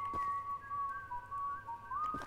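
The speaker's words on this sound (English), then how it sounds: "Their whistling comes from all over too." Cultists in the Choo Choo Charles horror game whistle a thin, steady, slightly off-key tune, one long sustained line that bends upward near the end, moderately quiet with soft background noise and no speech.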